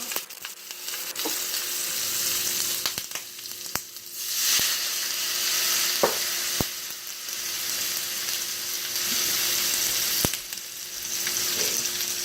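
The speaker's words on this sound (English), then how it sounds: "I'm going to add in just a little bit of my cooking wine." Cooking wine and garlic sizzle loudly in a hot frying pan, a steady close hiss that surges as the liquid hits, punctuated by occasional sharp clicks of a utensil against the pan.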